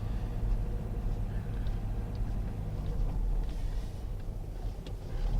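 Low steady engine rumble of a car slowly circling a hospital multi-storey car park, a continuous muffled drone heard from inside the cabin with no talk.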